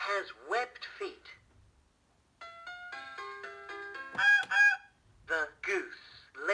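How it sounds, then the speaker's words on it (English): A goose honk from a children's apple-shaped activity learning toy, a few bright electronic honks sounding after a short tinkly tune, with a recorded voice speaking before and after. "The goose lays eggs."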